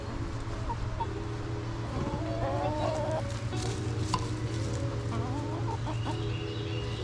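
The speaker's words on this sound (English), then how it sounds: "Chickens." Chickens cluck softly in scattered bursts over a steady low hum, fairly close, with occasional louder squawks.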